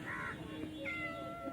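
A pet cat meows indoors, two or three short drawn-out calls close to the microphone over a quiet steady background hum.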